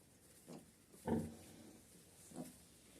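A sow in a farrowing pen gives a few low, soft grunts spaced over a few seconds, faint and close, with no voices.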